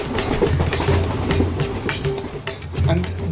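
Heard from on board, the Coimbatore Madras Express runs through India with a steady rumble and repeated wheel clatter over the rails, fairly close and continuous.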